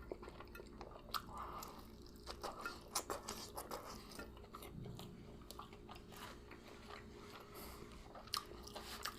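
Someone eating an Italian beef sandwich dipped in gravy, with wet bites and chewing close to the microphone, plus a few sharper clicks and smacks, quiet overall.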